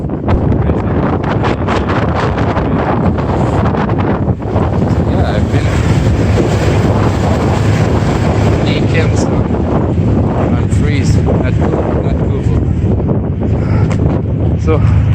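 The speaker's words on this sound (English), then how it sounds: "I've been pushed by the wind now." Strong outdoor wind on a driveway roars and buffets the microphone, loud and continuous throughout with no letup.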